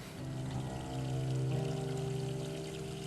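Water poured from a kettle into a cup for tea, a steady close pour lasting a few seconds with a rising tone as the vessel fills.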